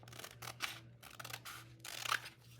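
Close scissors snip and trim fabric for a pocket wrap, several crisp cuts in uneven bursts against a faint background hum.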